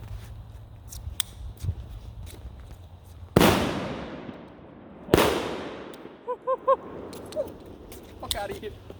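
Two homemade 6-gram firecrackers go off outdoors, each a sudden, very loud, close blast with a long trailing echo, the second following about two seconds after the first, with faint voices and small noises around them.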